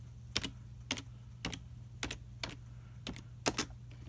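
Keys tapped on a computer keyboard at close range, coming in small clustered bursts of two or three quick clicks repeated about every half second, with a steady low hum underneath and no talking.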